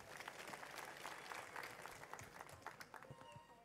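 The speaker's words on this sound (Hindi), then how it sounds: "इमरान भाई के लिए जोरदार ताली" A large crowd at an outdoor political campaign rally applauds for the poet-politician Imran Pratapgarhi, a dense, sustained wash of clapping that stays fairly even throughout.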